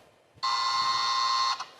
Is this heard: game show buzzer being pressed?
yes